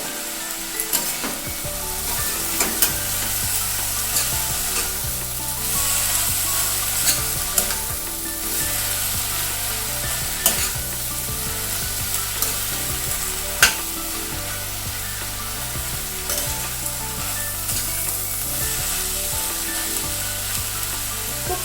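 Spices, salt, turmeric, coriander and cumin being stirred into a pan of banana-flower and coconut ghonto, a steady scraping and sizzling that runs throughout with faint repeated knocks of the spoon, no voices.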